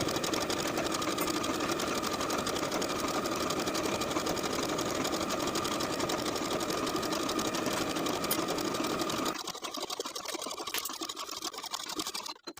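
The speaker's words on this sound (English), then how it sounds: "Sew each side seam with a 3/8 inch seam allowance and press the seams to one side." A sewing machine stitching the side seams of a skirt with a 3/8 inch seam allowance, a loud, steady rapid mechanical whir running nearly continuously before easing off near the end.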